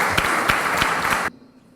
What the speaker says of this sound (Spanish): le hacemos entrega de un certificado a nombre de la Corte Suprema con nuestro agradecimiento y un aplauso para ella